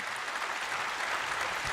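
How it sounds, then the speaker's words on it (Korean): Audience applause at the SBS D Forum 2025 conference in Seoul, a brief, even wash of clapping at moderate distance with no voices on top. "다시 한번 큰 박수 부탁드리겠습니다"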